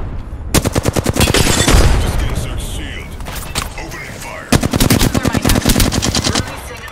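Automatic gunfire in the video game Apex Legends, loud rapid bursts of shots in two long volleys with a quieter gap between, a voice speaking over the action.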